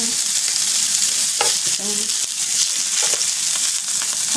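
Beef sirloin and vegetables sizzle loudly in a hot pan, with a dense steady frying hiss close up. A few stirring scrapes and clinks of a utensil against the pan cut through the hiss, and no one speaks.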